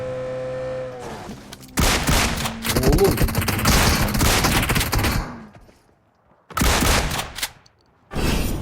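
A DBS shotgun in PUBG Mobile fires in loud, close bursts with sharp hit effects, heavy volleys clustering for several seconds, then two more short blasts after a brief near-silent gap, with a voice talking lightly underneath.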